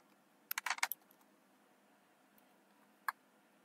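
A password is typed on a computer keyboard in a quiet room, a quick burst of several close key clicks followed after a pause by one more isolated tap.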